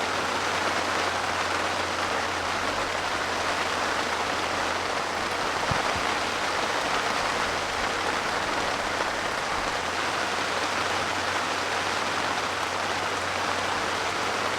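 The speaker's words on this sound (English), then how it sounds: "Hope you can still hear me over this rain. It's clattering down on the bivvy." Heavy rain clatters steadily on the taut fabric roof of a fishing bivvy, a dense, constant hiss close overhead with no pause, one brief knock partway through.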